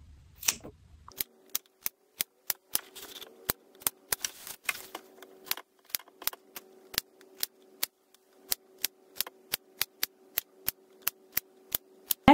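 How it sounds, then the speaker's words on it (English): Scissors snipping fabric close to the stitches of a laptop bag, a long series of crisp, evenly spaced clicks at close range in a quiet room. "We're going to make some little snips about 1/4 inch apart and get close to the stitches"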